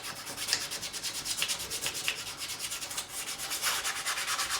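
Fret edges on an Epiphone Sheraton II Pro guitar neck are sanded to a bevel in rapid, rhythmic back-and-forth rubbing strokes, a close, fairly quiet scratchy hiss with no talking.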